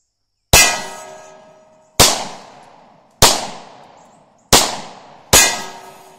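Five loud, sharp shots from a Hi Point C9 9mm pistol, fired at a slow, steady pace about a second apart, each crack trailing off in a short outdoor echo.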